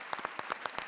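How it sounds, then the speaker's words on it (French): A seated audience at a Radio France and Reporters Sans Frontières evening claps in a quick, even run of sharp, fairly faint claps. "On va vous applaudir."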